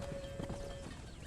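Horse hooves clip-clop in the Red Dead Redemption video game, a steady rhythmic series of close footfalls with a faint whinny-like tone mixed in, and no talking.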